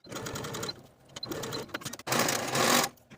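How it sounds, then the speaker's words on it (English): A sewing machine stitches short sleeve seams on a peplum top, running in three loud bursts of steady mechanical whirring separated by brief pauses and clicks, with no talking. "Sew these short seams with a 1/2 inch seam allowance and finish your seams."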